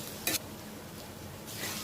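Light sizzling of chopped garlic, onion, ginger and green chilli frying in a pan, with a couple of brief scraping stirs of a spoon against the pan.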